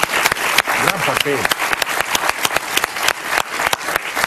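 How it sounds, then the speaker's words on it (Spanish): Audience applause in a Spanish-language TV studio, a dense spread of claps that runs throughout under a voice talking over it. "Un aplauso para ella, por favor."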